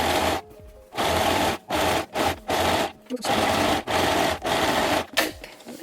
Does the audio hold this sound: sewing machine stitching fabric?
yes